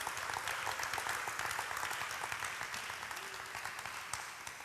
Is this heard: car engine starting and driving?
no